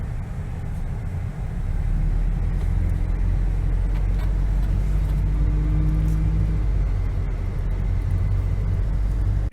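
A 2000 Jeep rolls onto a snowy trail with a loud, continuous low engine rumble and tire noise heard from inside, building after the first couple of seconds and holding steady.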